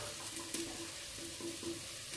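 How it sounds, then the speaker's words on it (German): Steady sizzling of onion frying in olive oil in a pot, with a few light clinks and stirring sounds over the continuous hiss. "Da werde ich jetzt zuallererst meine Zwiebel kurz anbraten."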